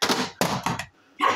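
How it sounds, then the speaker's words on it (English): A board hits the floor in a few quick, hard thunks that clatter close by, then a short silence and another knock. "I just dropped the board."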